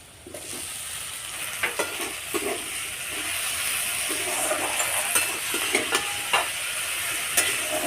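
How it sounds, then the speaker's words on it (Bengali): Salted okra tipped into a pan of frying onions, a steady sizzle and hiss with repeated scraping stir strokes, close and fairly quiet, no voices. "পেঁয়াজটা ভাজা হয়ে গেছে এবার লবণ মাখানো ভেন্ডিটা দিয়ে দেবো"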